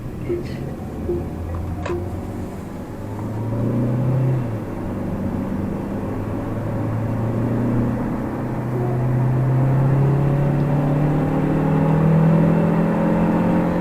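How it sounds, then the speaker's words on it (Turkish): A Chery Tiggo 8 Pro SUV engine running on LPG hums and gradually revs higher as it accelerates, heard from inside with a steady rising drone. "Ama motor sesi falan gerçekten çok güzel arkadaşlar"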